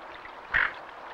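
A single short nasal quack from a tufted duck on a lake sounds once, fairly close, over a faint steady background of water.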